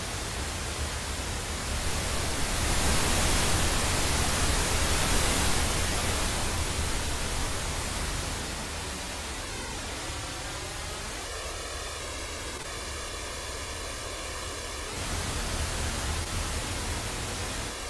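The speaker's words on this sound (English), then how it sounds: "as we move closer and closer to that wall, we started to hear that very characteristic phasing sound" Fountain water in a Wwise game-audio scene rushes as broadband noise, and as the listener nears a wall a clear comb-filter phasing sweeps through it, hollow swirling tones shifting steadily, before the noise settles back.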